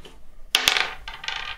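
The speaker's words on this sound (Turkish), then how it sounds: "Şimdi yine sen atıyorsun zarı Arya." Dice tossed in a children's 'catch the fox, save the chickens' board game give a quick double clatter followed by a shorter rattle as they settle. The sound is close and fairly loud, with no talk.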